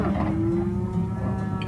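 Cattle on a hot, windy prairie lowing in one long, steady, droning moo that holds for nearly two seconds, loud and close with no other sounds.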